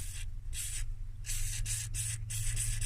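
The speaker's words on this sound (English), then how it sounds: "So we're just going to spray a little WD-40 in there." Short bursts of WD-40 aerosol spray hiss in quick succession, close up, sprayed into a stuck mechanism over a steady low mechanical hum.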